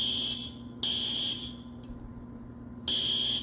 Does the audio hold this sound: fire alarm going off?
yes